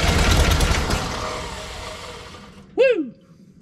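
A rusty junkyard wood chipper engine with a freshly primed fuel system runs loud and rough, then fades as it winds down, followed by a person's short excited whoop.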